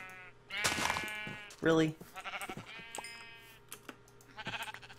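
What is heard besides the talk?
sheep bleating in video game Minecraft Feed The Beast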